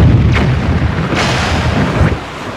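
Deep rumbling booms as a cannon is destroyed in The Wind Waker Randomizer, three muffled blasts in quick succession over a loud, low, continuous backdrop.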